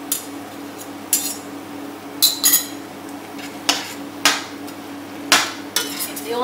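A spoon stirs crème fraîche into a dish, with irregular clinks and scrapes of metal against the bowl at close range over a quiet steady hum.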